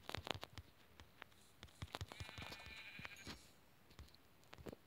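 A sheep bleats once in a Minecraft-style video game, a mid-length wavering call set among sharp clicking game sounds and light tapping before and after.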